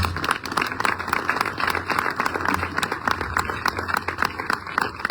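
Steady applause from a crowd at a groundbreaking ceremony, many hands clapping at once in a dense, continuous patter.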